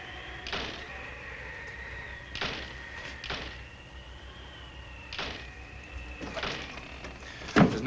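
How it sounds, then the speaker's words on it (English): A door swinging and banging in the wind in an old Yukon drama, several separate thuds and knocks spread across the stretch over a constant wind whistle, with a louder clatter at the end. "Look, the door."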